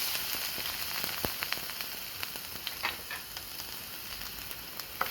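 Crushed coconut with mustard seeds and curry leaves frying in hot oil, a soft continuous sizzle dotted with light pops and crackles, close but fairly quiet and without speech.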